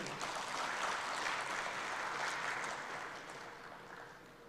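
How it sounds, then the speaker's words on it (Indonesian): Audience clapping at a national Islamic short film award ceremony in Indonesia, a steady broadband patter of many hands that stays even and then gradually thins toward the end. "Tepuk tangan untuk beliau."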